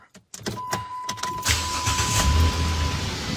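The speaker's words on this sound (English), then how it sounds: "We'll fire up the car here and see how it sounds." A car starts up after a hole in its muffler has been patched: a couple of brief clicks, a short cranking burst, then the engine catches and settles into a steady, loud idle hum with a faint whine.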